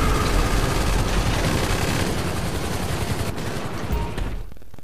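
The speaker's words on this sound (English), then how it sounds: "Hummer's shooting at me." A Hummer fires rapid, continuous automatic gunfire at the player in GTA Online, a loud and dense rattle of shots with engine noise underneath, tapering off at the very end.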